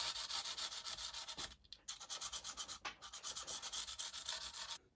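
Emery paper is rubbed against the end of a guitar fret in short, quick back-and-forth strokes, close and soft, with two brief pauses and no voices.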